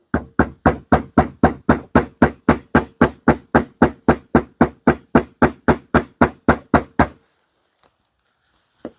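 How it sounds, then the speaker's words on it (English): Steady rapid hammer taps setting a stitching line on leather for an axe mask, about two dozen evenly spaced sharp strikes on a hard surface, then silence with a couple of faint ticks. "grab your hammer again,"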